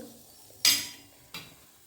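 A spoon scrapes and stirs spices, turmeric and garam masala, into green chickpea rice in a pan, two short close strokes with a faint sizzle between them.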